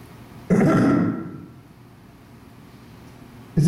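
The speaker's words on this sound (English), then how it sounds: "Why are you clearing your throat like that?" A person clears their throat with one rough, gravelly burst that trails off, followed after a pause by the start of another, close and alone.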